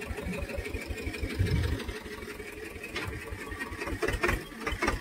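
A Swaraj 724 tractor engine runs with a steady rapid diesel chugging, close and moderately loud, rising slightly in intensity near the end; no speech.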